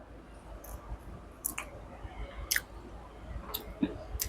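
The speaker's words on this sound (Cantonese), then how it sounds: "咁我就而家即刻咬開睇佢咩味啊" Someone bites into and chews a Musang King durian, freshly opened and tree-ripened, producing soft, faint wet squishes and occasional sharp clicks and crunches close to the mouth, with no talking.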